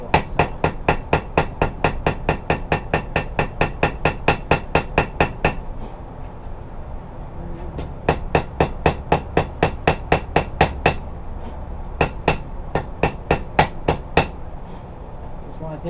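Rapid, ringing hammer blows forging a steel herb chopper blade in steady bursts, pausing briefly between runs, loud and close with no talking.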